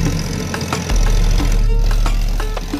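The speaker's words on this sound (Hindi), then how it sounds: "मोटर चालू करे।" A water pump motor runs in a rice paddy field, giving a loud, close, steady droning hum with a rattling engine-like knock that continues without break.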